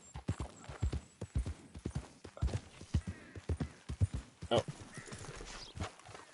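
Horse hooves clip-clop through a rural stretch in Red Dead Redemption 2, a steady trotting rhythm close by, with a voice speaking briefly over it and a snort or whinny near the end.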